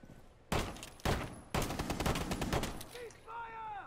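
Rainbow Six Siege gunfire: three loud, close bursts of rapid shots in quick succession, followed by a few brief whistling tones as the firing fades.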